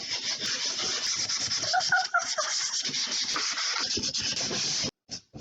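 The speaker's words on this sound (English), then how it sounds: "so let's get to sanding bits of this" Rust is sanded off an old trunk by hand in a steady scratchy rubbing, loud and close and nearly continuous, with a few short pauses near the end.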